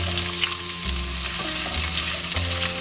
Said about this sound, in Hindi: आलू भी हम अच्छा से फ्राई करेंगे जब तक थोड़ा सा गोल्डन ना हो जाए।